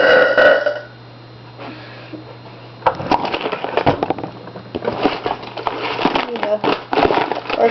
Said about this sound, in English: Work on my burping